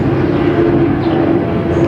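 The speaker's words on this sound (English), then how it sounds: "there's an airplane." An airplane passes overhead outdoors in fine weather, a steady loud drone with a low engine hum that holds evenly throughout, with no voices.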